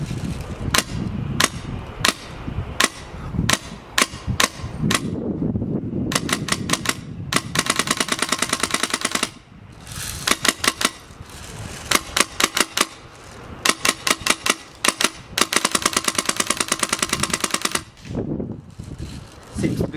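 An airsoft gun with a Polarstar Fusion Engine and a drum magazine fires sharp rapid bursts, first single shots, then long fast strings of cracks separated by pauses, loud and close with faint mechanical noise between.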